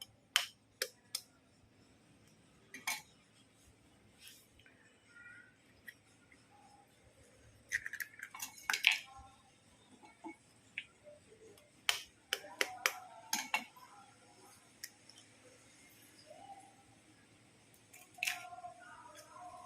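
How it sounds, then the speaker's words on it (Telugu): Eggs cracked one after another into a bowl at home for an omelette, giving sharp, brief clicks and taps in irregular clusters, close and fairly quiet against a low background hum. "ఇప్పుడు మన ఇంట్లో గుడ్లు కొడదాం"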